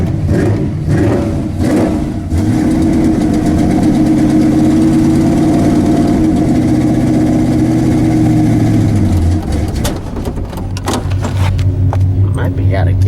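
A Ford Ranger drag truck engine struggles to start below freezing, then runs with a loud, rough, roaring idle and uneven revving that drops off and changes tone near the end, with voices talking over it.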